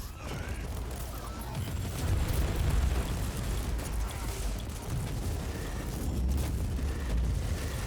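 A grenade blast in a Warhammer 40,000 shooter, a deep rumbling boom spreading into a long, dense roar of debris and battlefield noise that stays loud and steady throughout.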